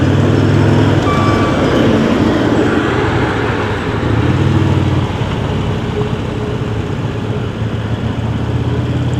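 Heavy road-paving trucks and machinery rumble steadily nearby, a dense continuous engine and traffic roar with a faint beeping tone drifting through it.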